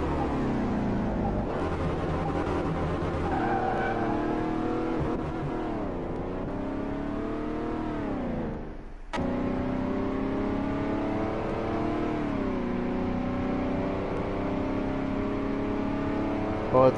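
A 1957 Chevy engine in the game Car Mechanic Simulator revs and accelerates through repeated rising and falling sweeps, loud and close, with a sharp break near the middle before revving climbs again.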